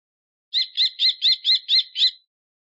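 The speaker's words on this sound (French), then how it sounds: "Le faucon." A falcon gives a rapid series of seven sharp, high chirping calls in an even rhythm, loud and clear against complete silence.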